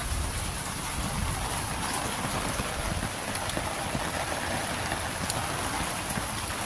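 Heavy typhoon rain pours steadily over a flooded street, a dense, loud and unbroken hiss of drops hitting surfaces close by.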